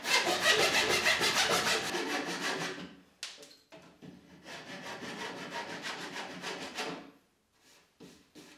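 A pull saw cuts through wood toward a marked line for a triangular piece in a coffee table build, rasping in quick rhythmic strokes, close and clear, pausing briefly before resuming and then stopping with a few light knocks.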